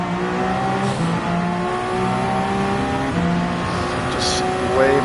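A rear-wheel-drive Porsche race car engine roars continuously and loudly, its pitch climbing and dropping in steps through gear changes, with a faint tire squeal possible near the end.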